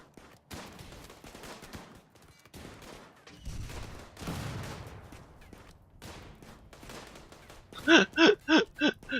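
In the colony-building game RimWorld, an incendiary rounds launcher fires amid scattered battle shots and thuds, ending with a rapid burst of five loud, evenly spaced blasts. No speech is heard.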